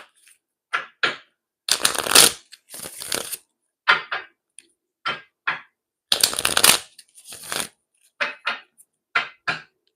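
Tarot cards are shuffled in a rapid series of crisp riffling bursts separated by short taps and pauses, close and clear with no talking.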